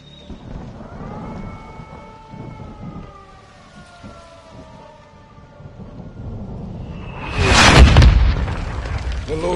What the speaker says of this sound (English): They're launching mortars.